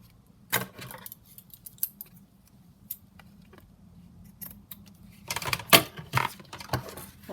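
Scissors snip at lace trim for a junk journal, a few isolated close crisp cuts followed by a quicker cluster of snips toward the end, alone in a quiet room.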